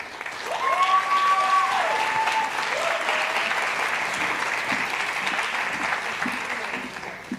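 Audience at an intercultural heritage recognition gala applauds, with brief musical tones over the start, followed by sustained, fairly loud clapping that continues to the end.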